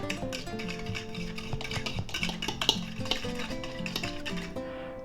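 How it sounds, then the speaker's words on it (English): Beaten egg and a little water are mixed in a bowl, with a quick, repeated scraping clink of utensil on the dish sounding close and steady throughout, over quiet background music. "And we're going to mix that up."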